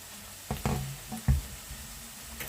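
Soft sizzling of zucchini frying in a pan, broken by a few sharp knocks and clatters of a utensil.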